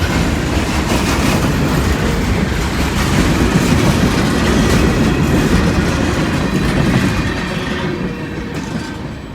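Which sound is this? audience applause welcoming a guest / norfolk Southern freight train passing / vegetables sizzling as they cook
norfolk Southern freight train passing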